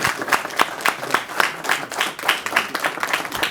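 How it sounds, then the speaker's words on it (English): An indoor crowd at a community event claps for a village mayor, a dense sustained round of applause with distinct individual hand claps, close and fairly loud. "Let's give him a round of applause."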